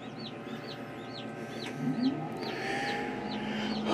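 Newly hatching chicks peep repeatedly inside a homemade sportsman incubator and hatcher, their high rising chirps coming in quick succession over the steady hum of a heating element and a 36-volt DC fan.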